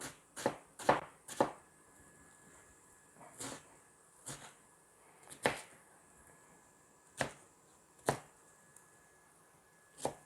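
A large head of lettuce shredded with a knife on a cutting board, crisp crunching chops in an uneven rhythm, about a dozen strokes with pauses between, close and fairly quiet.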